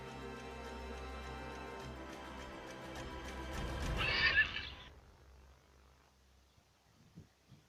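A horse in the video game Nethack Pathos neighs after being resurrected, a long loud whinny rising to a shrill peak and then dropping away into quiet.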